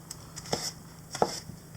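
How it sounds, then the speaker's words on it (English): A knife chops a portobello mushroom on a board in a few sharp, separate strikes, close and fairly quiet, with no talking. "I'm just going to chop that up so that we can saute it a little bit before adding the liquids."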